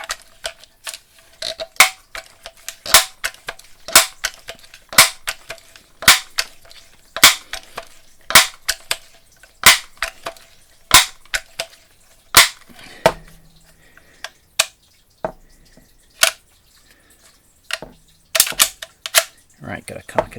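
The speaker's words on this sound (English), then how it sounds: "we're going to go with 10 pumps on this one, and I have to pump it first" A Crosman 760 Pumpmaster air rifle is pumped ten times by hand. Sharp, close clacks come one after another in a steady rhythm of roughly one per second, with brief quiet gaps between strokes.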